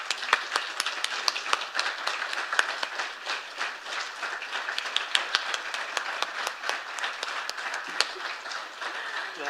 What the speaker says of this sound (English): Can we give them a great cheer,